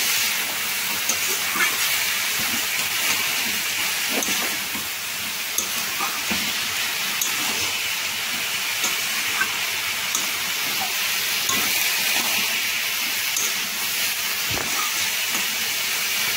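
Cabbage roll filling fries in a pan on low heat, giving a continuous even hiss with occasional soft clicks from the pan, no voices.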